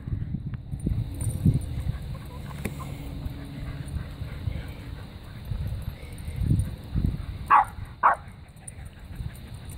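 Dogs chase a squirrel outdoors, with scattered barks and yips, rustling movement and a couple of sharp louder barks near the end, over faint background noise.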